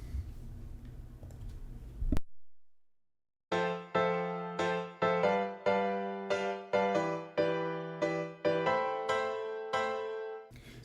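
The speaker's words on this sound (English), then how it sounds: "So the piano sounds like this just by itself." Solo piano playing repeated rhythmic chords in an anime music style, with uneven, offbeat accents, each chord ringing out and decaying, after a brief noisy snippet and a pause.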